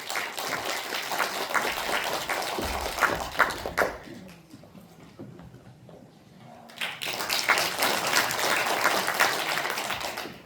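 Audience applause welcomes the sixth presenter at a volunteer best-practice presentation contest in Incheon, a dense round of clapping that dips briefly in the middle before swelling again and carrying on to the end.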